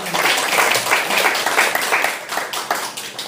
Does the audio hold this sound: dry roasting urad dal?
no